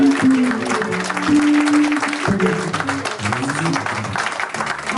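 Clapping from a church congregation, with dense, continuous applause filling the room, while a voice speaks and music plays underneath.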